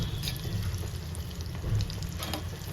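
Food roasting in ghee in a pan over a low flame for fibre-rich fasting gulab jamun, a steady soft sizzle with faint crackles and occasional stirring scrapes, close and continuous without talk.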